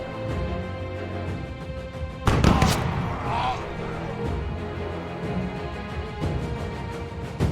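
A sharp musket volley bursts out in the revolutionary-war game We. The Revolution, a loud crack with a short rumbling tail amid ongoing battle ambience, followed later by a softer distant shot.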